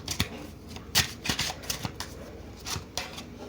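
Tarot cards shuffled by hand in a run of crisp riffling bursts and soft slaps, close and fairly quiet, with no voice.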